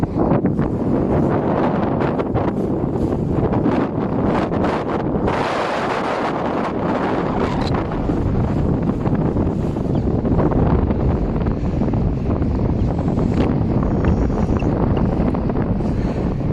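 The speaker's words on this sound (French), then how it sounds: "Je vais essayer de protéger un peu le micro parce que ça souffle fort, ça doit pas être très agréable en bruit." Strong wind buffets a microphone outdoors in Paris, a loud constant roaring rumble with gusty crackling surges across the whole stretch and no voices.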